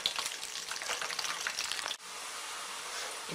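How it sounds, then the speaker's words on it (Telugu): Cauliflower pieces fry in oil in a pan with a soft, steady crackling sizzle and a brief break midway, faint and close, without any talk. "కాసేపు వేయించుకుందాం."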